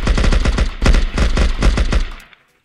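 Full-auto AK-47 in Unturned with a Vietnam mod, unloading a whole magazine: a rapid, steady string of loud, close gunshots with one brief hitch near the middle, ending abruptly as the mag runs dry.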